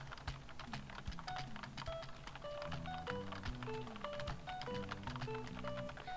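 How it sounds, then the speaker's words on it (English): Fast typing on a computer keyboard during a typing video game, rapid close key clicks in a steady stream under soft game music. "you have to be fairly quick at typing to be able to beat this mode"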